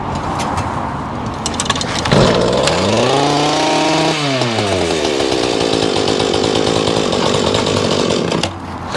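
A small lawn mower engine runs loud and close after starting by itself, its pitch swinging up and down as it revs before settling into a steady rough idle, then dropping off at the end.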